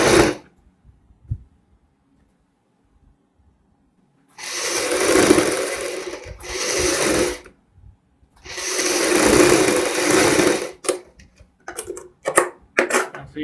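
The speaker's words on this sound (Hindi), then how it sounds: "दोनों एक दूसरे के ऊपर रखते हुए यहाँ पे सिलाई लगाएंगे" An electric sewing machine stitches the shoulder seam of a kurti in two sustained whirring runs of a few seconds each, separated by brief stops, with short clicks and handling sounds at the end.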